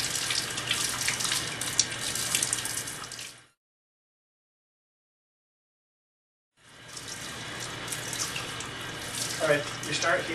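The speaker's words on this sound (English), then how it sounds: "you kind of want to do it under the water and just get that stuff rinsed right away" Tap water runs steadily at a surgical scrub sink as hands are rinsed, a loud continuous gush that cuts out for a few seconds and then resumes.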